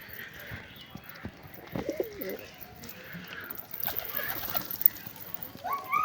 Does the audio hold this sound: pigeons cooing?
yes